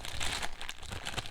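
Plastic packaging from a Peugeot 308 T7 car accessory crinkles and rustles as it is unwrapped, close and continuous for just over a second, with no speech.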